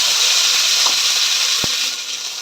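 Spice paste of whole cumin, green chili, ginger and coriander seeds frying in hot oil gives a loud, steady hissing sizzle, with a couple of faint clicks and a slight easing near the end.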